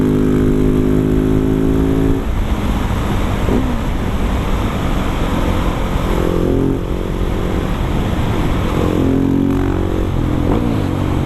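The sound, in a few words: Husqvarna 701 supermoto motorcycle riding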